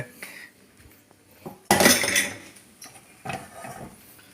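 Metal utensil scrapes and clinks against a pan while stirring scrambled eggs in short bursts, with a louder sizzling scrape in the middle, close and busy.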